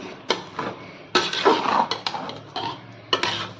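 A spoon stirs tomato chutney in a metal pan, giving irregular clinks and scrapes of utensil against metal, several sharp knocks among softer rubbing sounds, close and clear with no voices.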